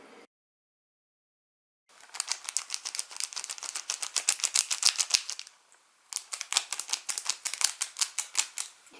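Yu-Gi-Oh card booster pack foil is crinkled and rubbed in rapid, rhythmic bursts, producing bright crackling rattles in two long runs separated by a pause, close and fairly loud.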